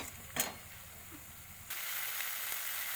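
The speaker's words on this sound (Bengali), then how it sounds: "মশলাটা ভাজা ভাজা হয়েছে বেশ কিছুক্ষণ ধরে ভাজছি" Spice paste frying in a pan for fish curry, a low steady sizzle with a sharp scrape near the start and a slightly louder hiss in the second half, close and quiet, no voices.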